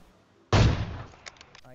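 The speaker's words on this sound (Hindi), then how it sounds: "जो भी बंदा भगता हुआ दिख रहा है उस पर अंधी फायरिंग बोल देता हूँ" A single loud, close gunshot from PUBG Mobile cracks out and decays, followed by a few fainter clicks and pops.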